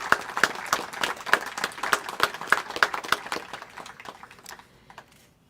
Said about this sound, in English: Please give them all a round of applause because they have served our community.